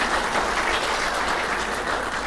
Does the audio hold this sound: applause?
yes